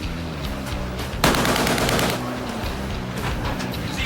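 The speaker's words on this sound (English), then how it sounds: "Warning shots. Fire." Machine gun on a warship fires warning shots in a sustained, loud burst of rapid automatic gunfire that starts abruptly and rattles on for several seconds, followed by a fading outdoor wash.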